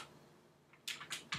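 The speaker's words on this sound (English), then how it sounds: "I'll type that into Notepad++ here." Three quick keystrokes click on a computer keyboard while typing into a text editor, crisp and close after a quiet moment, with no voice.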